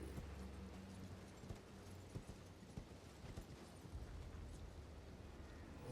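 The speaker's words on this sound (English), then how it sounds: "Perhaps with the aid of my trusty steed." Faint, rhythmic hoof beats of a horse trotting in Elden Ring: Shadow of the Erdtree, with soft repeated clops over a dense ambient game background.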